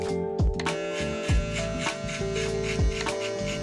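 Electric hair clipper buzzing steadily up close while blending a fade, a continuous motor hum broken by short dips as it is pulled away from the hair, with no talking.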